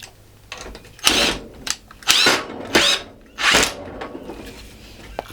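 A power drill drilling into wood whines in four or five short bursts, spinning up and cutting off, loud and close, with quiet pauses between each run.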